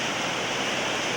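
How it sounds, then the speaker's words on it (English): Pacific Ocean waves washing up onto a sandy beach make a steady, broad rushing hiss that stays loud and constant through the short moment, with no voices. "Look at them waves."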